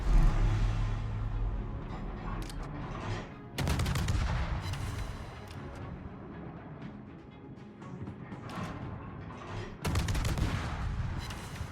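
Naval guns of the French destroyer FR T9 Mogador boom in a video game naval battle, two heavy broadband salvos several seconds apart, each followed by a rumbling decay under low engine and sea noise.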